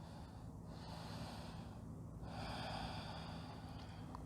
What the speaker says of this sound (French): On prend une longue respiration